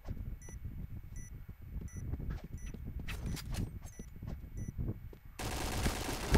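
Machine gun bursts crackle through a Point Blank match, rapid gunfire and separate shots over beeping game alerts and busy in-game noise, with a louder, denser burst of fire near the end.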